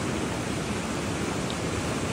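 Steady, dense rush of flowing water at a mountain stream or waterfall in a scenic valley of Shuhada district, Badakhshan, continuous and loud with no break, no voices over it.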